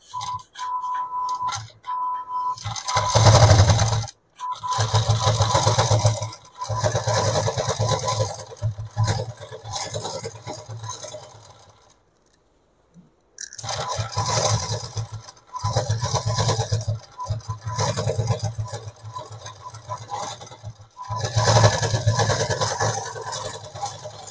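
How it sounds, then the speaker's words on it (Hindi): A sewing machine runs in bursts while stitching the finishing seam on a petticoat, a loud mechanical whirr that starts and stops several times, with a pause in the middle and no talking. "आमे एबे फिनिशिंग सिलाई लगेबा"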